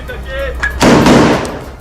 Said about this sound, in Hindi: उन्होंने एक के बाद एक कई गोलियां चलाई